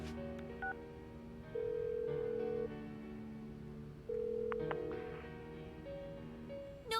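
A phone call in Persona 4 Golden rings through to voicemail: steady electronic ringback tones repeat at intervals over quiet background music, with no one answering.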